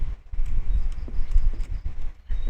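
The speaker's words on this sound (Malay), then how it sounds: "kenapa dengar macam ada tapak kaki ya?" Heavy footsteps in a Malaysian horror game set in a house, dull thuds landing irregularly and fairly close, with a low rumbling background between steps.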